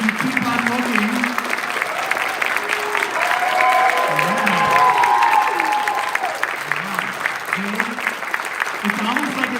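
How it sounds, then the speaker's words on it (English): A school band concert audience applauds steadily and loudly the whole time, with crowd noise and some cheering mixed in, while a voice talks and sustained tones sit under the clapping. "you don't get to move until they stop applauding"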